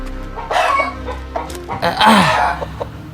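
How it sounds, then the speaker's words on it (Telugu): A rooster clucks several times close by in short, uneven bursts, with one drawn-out call near the end. "సుధా, గన్ను ఫైర్ చేసి కోడిని భయపెట్టురా."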